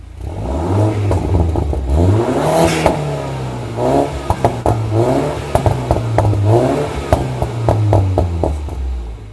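A Mini F56 engine with a Remus Valvetronic exhaust and decat downpipe revs repeatedly near the mic, rising and falling with throaty exhaust crackles and pops between blips.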